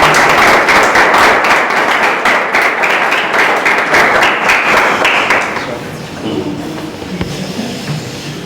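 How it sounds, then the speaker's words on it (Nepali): A church audience at a Sunday school teachers' training gives a pastor a loud, dense round of applause that fills the room for several seconds, then fades to scattered claps and murmuring voices. "हामी उहाँलाई एकदमै जोडले ताली बजाएर"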